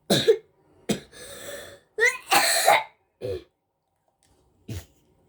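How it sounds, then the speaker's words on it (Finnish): Several harsh coughs and throat-clearing bursts come from someone who has a cough, close to the mic and spaced irregularly with short silences between them. "jos ihmettelitte äskeistä yskimistä, niin mulla on yskä"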